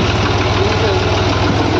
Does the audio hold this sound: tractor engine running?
yes